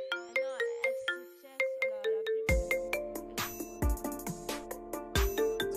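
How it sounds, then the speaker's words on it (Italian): A mobile phone ringtone plays in GTA V, a chiming melodic tune of repeated bright notes that grows fuller and busier halfway through, loud and clear with no talking over it. "Scusi il telefono, scusi un attimo."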